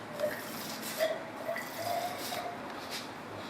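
Water stirred in a container while dissolving reactants for a chemistry demonstration, giving soft repeated clinks and swishes over a hissy background, fairly quiet, without talk.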